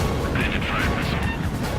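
Enemy missile launch in the jet combat game Ace Combat 7, a loud blasting whoosh roaring for under two seconds amid dense battle noise, with radio voices talking over it.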